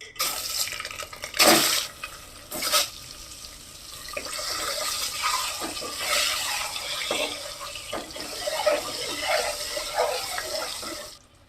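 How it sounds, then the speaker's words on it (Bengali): Eggs frying in hot oil with a little turmeric in a cooking pot for a Bengali egg curry, giving a steady crackling sizzle with louder bursts of spattering near the start and scattered pops throughout. "এখন আমি ডিমটা দিয়ে দিচ্ছি।"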